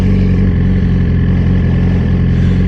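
A Suzuki GSX-R 1000 motorcycle fitted with a new Brock's exhaust runs loud and close with a deep, steady engine note, holding a continuous rumble throughout.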